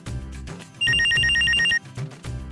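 A landline telephone rings in one clear electronic burst of about a second, loud and close, with indistinct household noise before and after.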